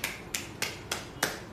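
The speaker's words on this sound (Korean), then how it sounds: "아 박수" Hands clap five times in a steady, even rhythm. The claps are sharp and fairly close, with no talking over them.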